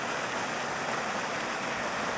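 A winter waterfall running high between snow and retreating ice, heard as a steady, dense broadband rush of falling water without breaks or voices.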